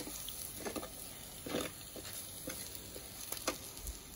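Masala paste sizzling and frying in a pan, a steady quiet sizzle with a few louder spatters and stirring scrapes scattered through, no voices.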